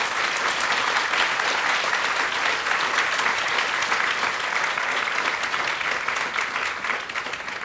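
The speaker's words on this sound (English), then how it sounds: "I'd like to ask for a round of applause for our panelists." A conference audience at a women tech executives' roundtable gives a steady, dense round of applause for the panelists, sustained and even throughout before tapering slightly at the end.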